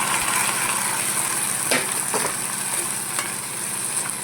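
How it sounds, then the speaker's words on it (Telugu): Soaked dal is stirred in a pan, a loud continuous sizzle and hiss with a few scraping strokes of the spoon against the pan. "నానబెట్టేసుకున్నది దీంట్లో వేసేసుకున్నాం మనము."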